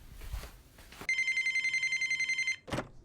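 A telephone rings indoors with a single bright, trilling electronic burst of about a second and a half, clear and close, between quieter room sounds and a short rustle afterward.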